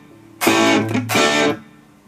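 Two short distorted guitar chords through Amplitube 5 amp simulation with subway reverb ring out with a long, cavernous echo that trails away after them.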